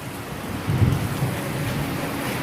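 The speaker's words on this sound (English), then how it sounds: "Thunder is rolling." Distant thunder rolls low beneath steady rain, swelling briefly near the middle before settling back into a soft, continuous outdoor rumble.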